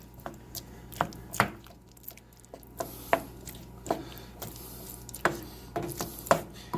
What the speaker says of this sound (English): I'm going to use a spoon to just kind of stir this in there and get it into the sauce to let it get hot.